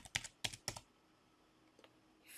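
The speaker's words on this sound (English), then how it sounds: "I'm going to type that" Typing on a computer keyboard: three quick clusters of close key clacks, then a faint lone tap and quiet room tone.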